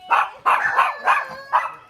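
A dog barking in a series of five sharp, close, loud barks with short pauses between them, heard without talk.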